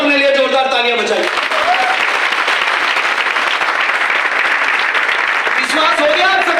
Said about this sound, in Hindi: अब अपने लिए जोरदार तालियां बजाइए।